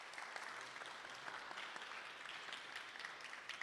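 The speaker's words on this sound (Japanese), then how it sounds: "上野さんにもう一度大きな拍手をお願いいたします" A studio audience at a live event gives sustained applause for a participant, an even, fairly quiet patter of many hands with no talking over it.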